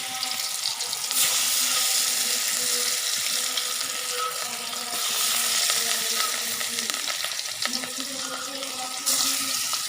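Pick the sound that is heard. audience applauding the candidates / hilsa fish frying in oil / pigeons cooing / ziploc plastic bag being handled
hilsa fish frying in oil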